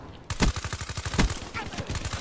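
Rapid machine gun bursts in the video game Black Ops 3, a fast stuttering run of shots with a couple of heavier cracks, loud and close, continuing for the whole stretch.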